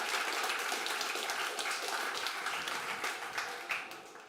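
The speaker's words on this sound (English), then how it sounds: "So can we have another round of applause?" An audience at The Tank Museum in Bovington, UK, applauds steadily with dense, fairly distant clapping that holds throughout and thins slightly toward the end.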